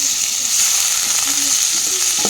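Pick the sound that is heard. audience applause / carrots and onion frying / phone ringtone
carrots and onion frying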